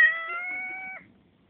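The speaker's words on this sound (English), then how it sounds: "Kitty cat?" A cat gives a single drawn-out meow close by, lasting about a second before it cuts off into quiet room noise.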